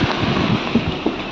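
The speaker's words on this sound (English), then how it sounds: "You see how windy it is." Strong wind buffets outdoors at a bus stop in France, a loud, steady rumbling roar with gusty swells across the whole moment.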